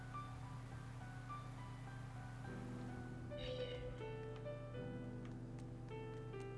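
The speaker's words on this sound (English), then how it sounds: "Barely a bunch of cat spirits." Cat spirits in Tales of Berseria meow in a few short, tonal cries that come in midway over a steady game music drone, moderately close and clear.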